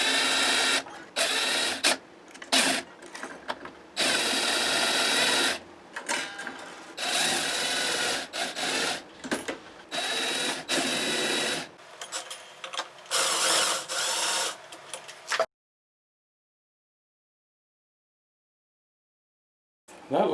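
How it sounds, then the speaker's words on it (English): A Gibson 335 guitar has its strings and hardware stripped off, with rapid whirring and ratcheting bursts from a power tool in short close runs, then silence. "Strip off the strings and hardware."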